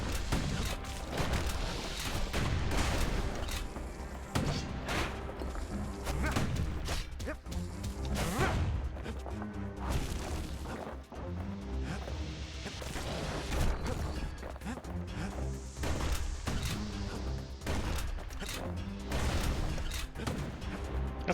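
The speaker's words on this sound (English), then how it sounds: "Shotguns are fun." Shotgun blasts in the action video game Bastion, a dense, continuous barrage of booming shots and crashes layered with game effects that stays loud throughout.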